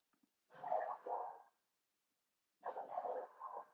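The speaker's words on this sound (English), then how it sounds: "there are dogs barking now." Two muffled bursts of dog barking, faint and distant, separated by a short silence.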